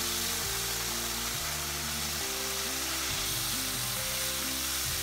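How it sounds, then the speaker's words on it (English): Butter sizzles steadily in a hot frying pan, a dense continuous crackle with a low, shifting hum beneath it and no voices. "get butter in a pan and heat it up till it's nice and hot"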